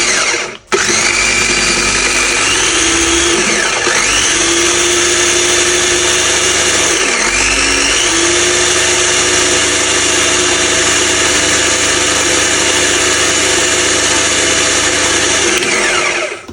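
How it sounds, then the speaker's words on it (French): An electric blender whirs steadily as it mixes a Brazil sauce preparation, starting with a brief jolt and a pitch dip, then running loud and continuous for about fifteen seconds before cutting off, with no talk. "mixer la préparation"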